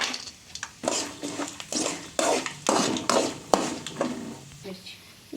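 Cashews, mustard seeds, cumin and curry leaves fry in a pan, with metal spoon clinks and stirring scrapes in uneven bursts over a light sizzle.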